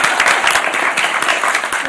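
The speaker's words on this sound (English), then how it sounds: "Round of applause." Audience applause at an academic anniversary symposium, a dense, steady wash of many hands clapping that holds for about two seconds at moderate loudness.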